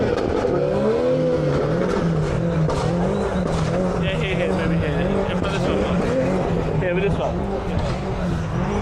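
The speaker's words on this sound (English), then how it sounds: "is he going to give some revs on that?" A car engine revs loudly and continuously, its pitch climbing and dropping in repeated swells.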